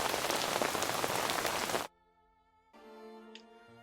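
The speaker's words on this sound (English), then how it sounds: "The rain continues for the whole night." Steady, dense rain falls through the night and patters on surfaces, loud and close. It cuts off abruptly partway through, followed by near silence and then soft music.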